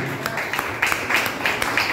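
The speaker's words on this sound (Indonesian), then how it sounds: "Beri tepuk tangan bagi Tuhan." Congregation clapping during a church sermon, a steady wash of applause with a few louder bursts, fairly close and continuous with no voices over it.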